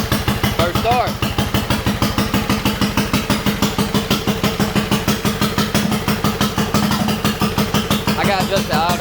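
A minibike engine fitted with a Tillotson carburetor runs right after its first start, a loud, close, steady fast chugging idle that continues throughout, with a voice talking briefly over it.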